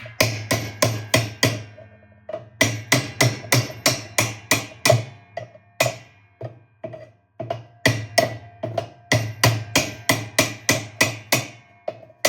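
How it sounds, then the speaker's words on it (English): Sharp metallic strikes of a hammer on a piece of steel while working on a Kenmore washer, coming in quick rhythmic bursts of several blows with short pauses between, loud and close. "put the piece of steel in there and then just hit it with my hammer and keep hitting it"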